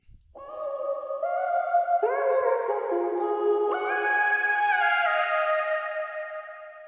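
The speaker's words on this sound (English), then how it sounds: "another arcade plugin, which was this vocal from Hooked" Feminine vocal sample from the Hooked Arcade plugin in a melodic drill beat, a sustained airy voice gliding between held pitches, alone and steady for about six seconds with a soft reverb-like tail.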